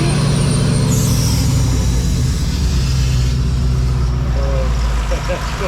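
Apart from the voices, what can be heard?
LS 6.2L overhead cam engine idling in a 1934 Ford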